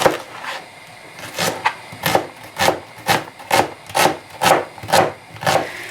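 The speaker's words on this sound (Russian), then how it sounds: "Лук нарезаем, можно полукольцами, я четвертинками сделаю." A knife chops an onion steadily on a wooden cutting board, about ten crisp, evenly spaced strokes that speed up slightly, close and fairly loud with no talking.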